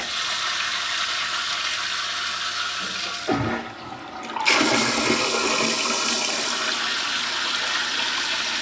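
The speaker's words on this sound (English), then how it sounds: "Let's try out flush." A RekeSmt intelligent toilet flushes loudly up close: a steady rush of water, a short gurgling drain and dip partway through, then a strong refill surge that keeps running.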